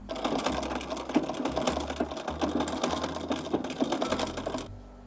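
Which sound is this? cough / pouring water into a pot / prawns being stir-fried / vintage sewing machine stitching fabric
vintage sewing machine stitching fabric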